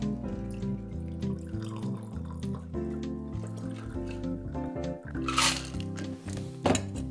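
Sparkling wine, a small bottle of Henkel, pours into a chilled martini flute with a steady, gurgling trickle that rises in pitch as the glass fills, ending in a couple of brief fizzing splashes.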